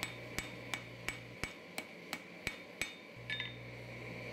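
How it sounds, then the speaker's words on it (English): A hammer strikes a san mai billet on an anvil in a hand-forging session, about ten evenly spaced ringing blows with bright metallic clinks, steady and close, over a low background hum. "As you hammer on one side, you're going to notice the center layer starts to move towards the anvil."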